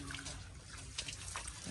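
Steady spray of water wetting freshly laid masonry on a building site ahead of plastering, a continuous hissing wash with faint splashy bursts, fairly close and unbroken.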